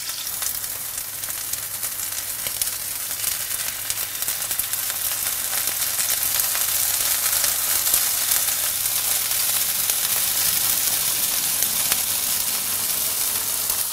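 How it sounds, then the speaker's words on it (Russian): Loud, continuous sizzling and crackling of scallops searing in a hot pan, a steady bright hiss throughout with no talking. "Жарим примерно по 30-40 секунд с каждой стороны."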